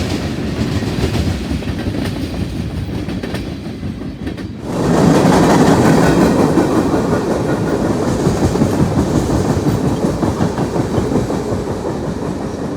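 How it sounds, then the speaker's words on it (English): Long freight train of old, rusty flat cars rolling past, loud and close, with a steady roar of wheels and rhythmic clickety-clack that swells suddenly partway through and keeps up to the end. "this huge string of really old flat cars"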